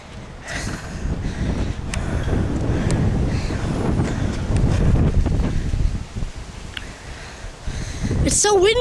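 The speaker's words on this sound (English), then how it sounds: "It's so windy." Strong wind buffets the microphone with a steady rumbling roar, gusting up and down, with faint rustling and a brief voice near the end.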